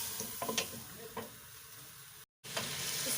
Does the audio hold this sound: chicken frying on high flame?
yes